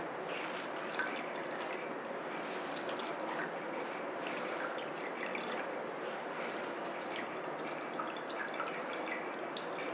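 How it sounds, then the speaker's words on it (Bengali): Grated raw mango squeezed and wrung by hand to drain its juice, giving a steady close trickle and drip of liquid that runs on without a break and with no talk. "পুরো জল বেরিয়ে যাবে আর এইভাবে প্যাঁচ দিয়ে আরও জলটাকে বার করে দিতে হবে"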